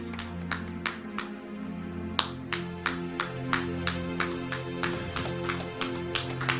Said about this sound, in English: Give them a hand of applause as they come forward.